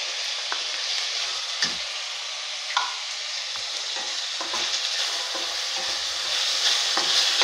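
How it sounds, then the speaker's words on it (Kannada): Finely chopped tomatoes fry in oil for restaurant-style chole masala, a dense, close hissing sizzle with intermittent pops and utensil clicks, growing slightly louder toward the end, no speech. "ಈಗ ಇದು ಟೊಮೊಟೊ ಹಾಕ್ತಾಯಿದ್ದೀನಿ, ಅಂದರೆ ಪ್ಯೂರಿ ಮಾಡಿನೂ ಹಾಕ್ಬೋದು, ನಾನು ಸಣ್ಣಗೆ ಕಟ್ ಮಾಡಿದ್ದೀನಿ"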